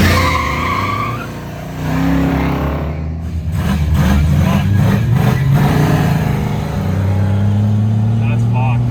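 A Ford Barra EF engine revs hard through a newly finished exhaust, the note swelling and rasping in repeated bursts, with people talking loudly over and between the revs.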